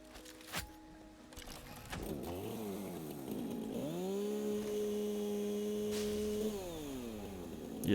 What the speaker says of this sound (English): Can I chainsaw the bamboo?